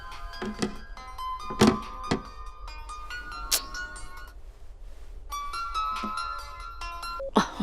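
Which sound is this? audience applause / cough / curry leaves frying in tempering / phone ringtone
phone ringtone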